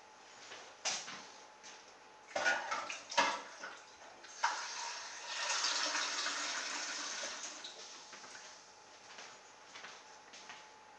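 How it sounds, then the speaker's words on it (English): Tap water runs into a cooking pan to soak it after making soup, starting with a few clanks and bursts, then a steady moderate splash and rush lasting several seconds before tapering, with no talk. "I'll go and put that in some cold water so it's easy to wash afterwards."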